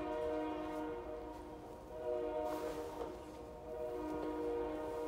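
A distant train horn honks repeatedly in a series of faint, sustained tonal blasts with short gaps between them, heard from far away with no talking.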